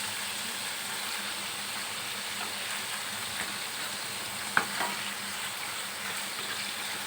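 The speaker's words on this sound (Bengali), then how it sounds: "এই পাশে চিকেনটাকে আমি ফ্রাই করে নিচ্ছি।" Chicken marinated in ginger, garlic, tomato sauce and salt frying in a pan for fried rice, a continuous even sizzle broken once midway by a single sharp utensil click.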